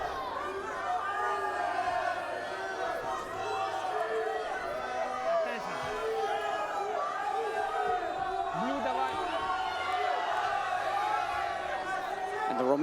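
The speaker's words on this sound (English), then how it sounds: "the Romanian crowd asking for a passivity call against Kerem KAMAL" Romanian crowd at a Greco-Roman 60kg bronze-medal wrestling match, a loud, continuous roar of chanting and shouting calling for a passivity call, filling the arena throughout.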